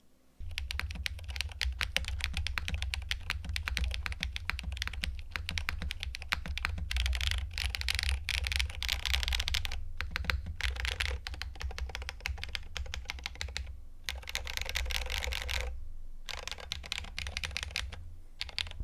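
Fast, continuous typing on a Tech Bear TB8 TKL mechanical keyboard in a top-mount build with no foams, dense consistent clacks close up with a few brief pauses.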